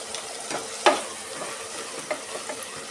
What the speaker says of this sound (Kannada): ಸ್ವಲ್ಪ ಚೆನ್ನಾಗಿ ಫ್ರೈ ಮಾಡ್ಕೊಳ್ಳೋಣ ನೋಡಿ